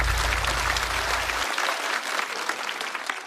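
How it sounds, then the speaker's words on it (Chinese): A stand-up comedy show audience bursts into loud, sustained clapping that fills the whole moment, dense and close, with no voices heard. "掌声送给张俊"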